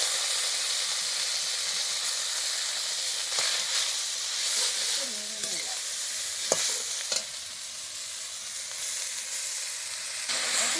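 Washed leafy greens frying in hot oil with dried chili and crushed garlic, a steady loud sizzle and hiss with occasional stirring scrapes and clinks from the pan, no voices.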